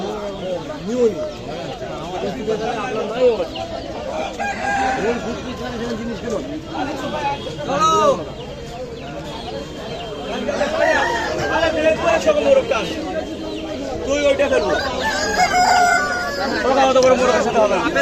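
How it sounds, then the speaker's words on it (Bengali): Fighting roosters for sale at a busy market crow now and then, with clucking fowl and constant crowd chatter and nearby voices talking over them. "এই মোরগ লড়াই করার জন্য এখানে বিক্রি হয়।"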